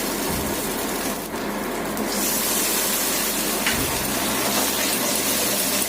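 A little water goes into a hot frying pan of cumin and chilli paste, setting off a loud, sustained hissing sizzle that fills the pan, close and continuous.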